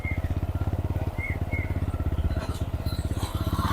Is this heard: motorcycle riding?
yes